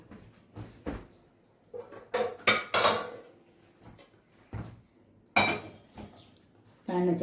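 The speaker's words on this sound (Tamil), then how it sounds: "ஸ்டவ் பற்ற வச்சு ஒரு கடாய் வச்சுருவோம்." Kitchen clatter as a stove is lit and a kadai pan is set on it: scattered sharp metallic knocks and clinks of cookware, some louder bangs, spaced irregularly in a quiet room.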